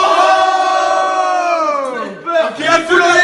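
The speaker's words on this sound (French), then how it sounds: "la foule en délire" A crowd cheers wildly: many voices roar and shout together in a loud, sustained wall of sound that dips briefly, then swells again.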